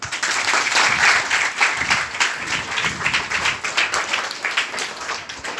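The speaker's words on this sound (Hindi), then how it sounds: "तालियां बजाओ।" Schoolchildren at a government senior secondary school in Gwal Pahari, Gurugram, clap together in a dense, continuous round of applause that fills the room steadily, with no speech over it.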